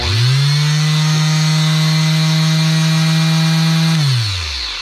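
An electric sander mounted on a homemade flat-base paint shaker hums steadily and loudly for about four seconds, then winds down as it is switched off, with no talking.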